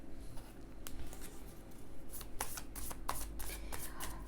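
Tarot cards being shuffled by hand, close and continuous riffling and flicking with sharp snaps scattered through, a steady papery patter with no voice.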